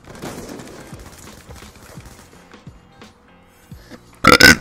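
Gunfire and a grenade blast in the video game Call of Duty: Black Ops 2, with a series of sharp shots and impacts early on, then a loud, abrupt burst at the end.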